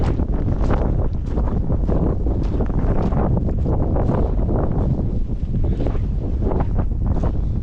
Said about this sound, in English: It's getting windy now, a bit cooler up here actually